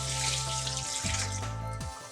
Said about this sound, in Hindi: और साथ में ये 2 गिलास पानी में शामिल करूंगी